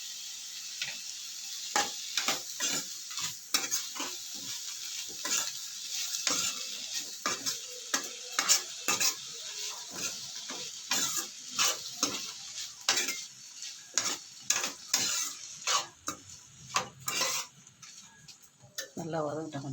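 Tomatoes and tamarind for a bottle gourd chutney are sautéed in a pan, with a spatula scraping and clinking in quick irregular strokes over a soft sizzle. A person talks intermittently in between.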